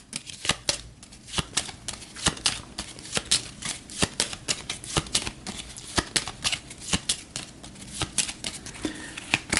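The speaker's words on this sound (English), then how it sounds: "the turn order deck's been shuffled" Cards from the Aeon's End turn order deck riffled and shuffled close up, a rapid run of crisp papery flicks and snaps in quick bursts, with no talking.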